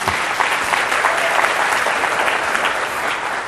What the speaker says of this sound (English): I'm glad you actually are clapping